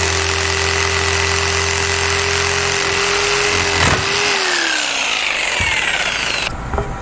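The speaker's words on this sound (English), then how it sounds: "we're going to go ahead and use our jigsaw for everything today." A jigsaw runs steadily while cutting wood during chair reupholstery work, a loud buzzing drone that holds for several seconds, then shifts pitch and slows before a brief clatter near the end.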